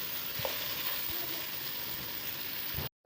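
Chopped capsicum, green chilli and cabbage fry in a hot pan for noodles, giving a steady close sizzle with a few soft stirring clunks, no talk, cutting off abruptly at the end.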